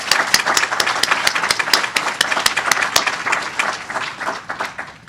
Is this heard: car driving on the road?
no